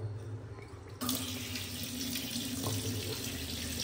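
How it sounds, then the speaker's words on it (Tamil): Tap water runs steadily into a sink in a newly built house for sale, starting abruptly after a second of quiet and continuing as a loud, even rush with no voices. "இங்கேயும் வாட்டர் ஃபோர்ஸ் பார்க்கலாம்."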